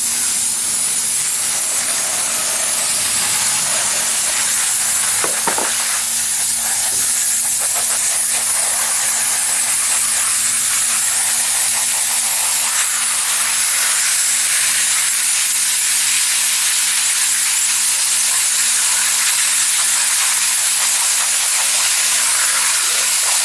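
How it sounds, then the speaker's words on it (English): A water hose sprays gold concentrates through a 20 mesh screen into a pan, giving a steady, loud hiss of rushing water that runs unbroken throughout, with no voices. "put my 20 mesh screen, and then just hose this through"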